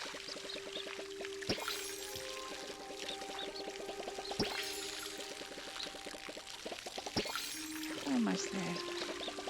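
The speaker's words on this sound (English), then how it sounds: "I know it's very boring watching someone water their garden." Garden watering in the video game Palia, a steady pouring trickle of water running under a light game music bed, with a person talking briefly over it.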